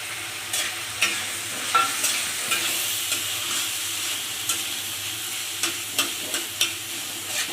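Potatoes with green chilli frying in a pan, a steady close sizzle broken by repeated sharp scrapes and taps of a spatula stirring, with no talking.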